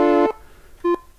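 Two short tones from a 1980s Bontempi BK 32 school keyboard on its first, filtered-wave tone setting, a held note then a briefer higher one after a pause, clear and close with no talk.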